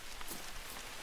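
Steady rain patters softly across the ground and grass in the hunting video game TheHunter: Call of the Wild, a faint continuous hiss with scattered drops and no voices.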